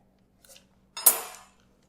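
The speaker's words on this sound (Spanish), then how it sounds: "Nos ayudamos, si es necesario, de un cuchillo para cortar" A knife cuts and trims a rectangle of cream cheese cookie dough, giving one short clack and scrape against the surface after a faint tap, with no talking.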